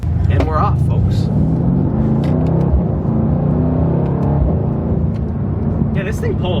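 A 2021 Mercedes-AMG C63 S Coupe, a rear-wheel-drive V8, pulls hard under acceleration from inside the cabin, a loud rising engine rumble with climbing harmonic tones, while a person talks over it.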